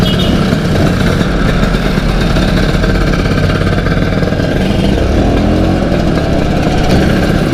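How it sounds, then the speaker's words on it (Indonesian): A motorcycle engine runs loud and close after being started for a morning ride toward Bedugul, a steady rough mechanical drone with no change in pitch and no one talking. "Kita tunggu Jero dulu menghidupkan motornya ya cuy ya"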